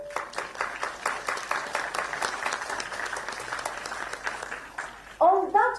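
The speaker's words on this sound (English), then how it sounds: "can we start by giving ourselves a thunderous round of applause" Audience clapping in a hall at an MBBS orientation programme, lively applause with distinct claps that rises and then tapers, followed near the end by a voice speaking over the last of it.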